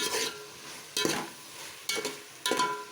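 Vegetables tossed and fried in a pan for a veg pulao, four separate bursts of sizzling and scraping as the pan is shaken, with quieter frying between the tosses.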